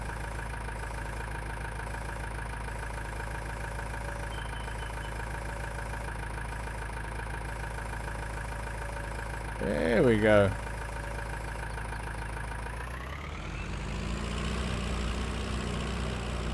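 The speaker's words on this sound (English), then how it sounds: "This is a nice tractor. I really, really do like this tractor." A tractor engine in Farming Simulator 19 idles with a steady, low droning hum throughout. Someone speaks briefly midway, and the engine tone rises slightly near the end.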